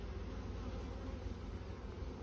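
Honey bees in an open beehive, opened while adding a honey super, make a dense, continuous buzz that holds steady and close throughout, with no voices.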